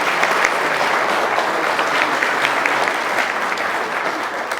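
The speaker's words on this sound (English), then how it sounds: "I think she deserves a round of applause for that." Wedding guests applaud after a heartfelt speech at the reception, a thick, sustained round of clapping from many hands at close range, holding steady before easing slightly at the end.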